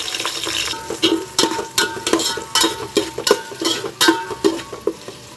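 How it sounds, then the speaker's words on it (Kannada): Whole spices like cinnamon, cloves, cardamom, star anise, fennel and bay leaf crackle in hot oil and ghee for biryani, with a spoon scraping and stirring the pan in quick, repeated strokes close by. "ಈಗ ಇದಕ್ಕೆ ಒಗ್ಗರಣೆಗೆ ಚಕ್ಕೆ, ಲವಂಗ, ಏಲಕ್ಕಿ, ಸ್ಟಾರು ಎಲ್ಲನೂ ಹಾಕೋತಾ ಇದ್ದೀನಿ, ಸೋಂಪು ಮತ್ತು ಬಿರಿಯಾನಿ ಎಲೆ"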